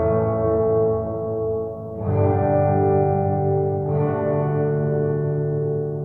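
A sustained guitar tone passes through the dark ocean reverb setting of a Sonicake Pocketmaster pedal. It has a muffled top end, with two fresh strums swelling into a long, smooth wash of tail.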